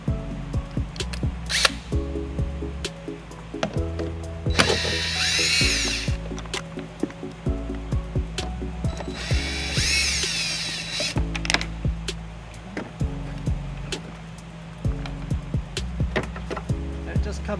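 Two Phillips screws being backed out of a 2009 Ford Escape tail light, heard as two whirring driver bursts of about a second each over a steady low hum, with someone talking throughout.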